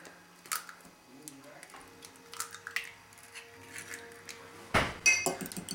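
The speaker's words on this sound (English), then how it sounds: "For our eggs, I'm going to break them into a cup." Eggs are cracked into a cup for gingerbread biscotti, giving light clicks and taps, then a sharp crack with a wet splatter near the end, close up and fairly soft.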